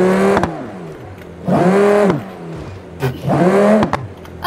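A convertible's engine in the driving game BeamNG Drive revs in two strong surges, rising and falling in pitch with a pause between, loud and close with no talk over it.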